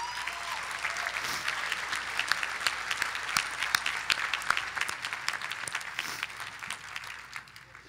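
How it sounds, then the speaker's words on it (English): Graduates and guests at a commencement ceremony break into sustained applause, with dense clapping and sharp individual claps popping out, slowly thinning toward the end. "Please take a moment to applaud yourselves and those people who surround you with"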